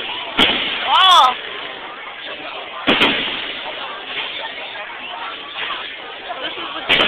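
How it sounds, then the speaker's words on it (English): Fireworks burst over a lake at Waldameer Park, with several sharp booming explosions spaced a couple of seconds apart and a crackling pop between them, heard close and loud while people talk nearby. "This is the closest I've been to fireworks in a while."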